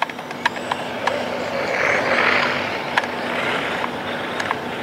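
A radio-controlled Tamiya Grand Prix car running practice laps on light throttle, a faint distant whirring hum under hiss and occasional clicks and knocks.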